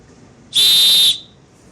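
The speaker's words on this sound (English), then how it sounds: "Whistle." A survival-kit whistle blown once, a single loud, shrill, piercing blast lasting about half a second, close by and alone against quiet surroundings.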